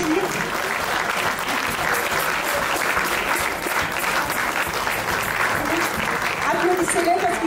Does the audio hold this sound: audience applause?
yes